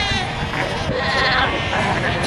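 Cape fur seal pups on the Skeleton Coast of Namibia give a dense, continuous chorus of bleating cries, many voices overlapping at close range with no pauses.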